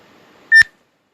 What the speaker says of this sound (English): it's a little alarm that goes off on my phone every hour.